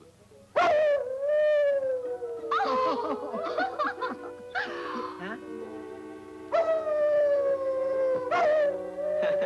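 A prize-winning show collie howls in a 1940s film scene, long rising and falling wails starting loud and close, then returning in several drawn-out bursts, with music and a brief spoken exclamation mixed in.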